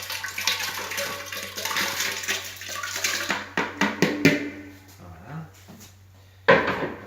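Water, sugar and water kefir are stirred in a container, giving a sloshing, swirling wash followed by a few scattered knocks and clinks, with a voice speaking over it.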